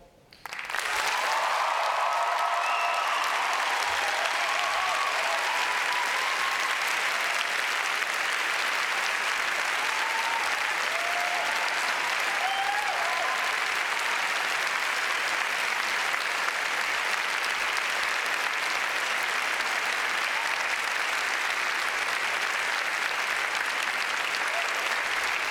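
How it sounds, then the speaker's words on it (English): Large audience applauding at a university graduation ceremony in Cardiff, a dense, loud wall of clapping that swells quickly and holds unbroken for over twenty seconds in a big hall. "Everybody's been cheering and clapping for you."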